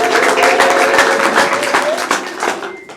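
A church conference crowd breaks into loud, dense applause with voices and ululation mixed in, close and full, then the clapping thins and fades toward the end.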